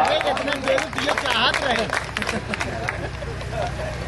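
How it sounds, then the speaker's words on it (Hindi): An audience at a mushaira poetry recital in Raniganj, Pratapgarh claps steadily beneath a crowd murmur and a voice. The applause is moderately loud and continuous for several seconds. "जरा सा तालियां वालियां बजाएंगे आप"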